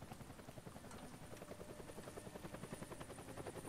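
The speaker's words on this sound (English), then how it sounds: "That's the helicopter chasing my friends." A helicopter in the video game Deadlight chases the player's friends, its steady rotor chop thumping continuously and fairly loud throughout, with no talk over it.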